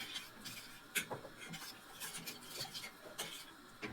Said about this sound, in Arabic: معلقتين كبار على الزيت، وهقلب كويس جدا